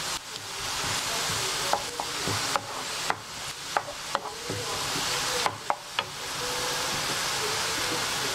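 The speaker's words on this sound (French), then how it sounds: "Vous continuez à remuer de temps en temps." Red lentil dhal fries in a pan with a steady, hissing sizzle, while a spoon stirs with scattered soft knocks against the pan, close and moderately quiet, with no talk.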